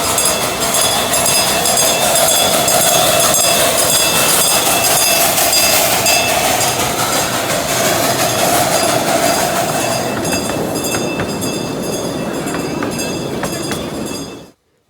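Steam train number 1 at a steam museum's power show pulls in with steady rumbling wheel noise, clanking cars and a high metallic hiss, loud and close, fading out abruptly at the end.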